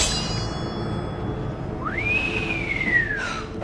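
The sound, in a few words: Green Goblin whistling in Spider-Man: No Way Home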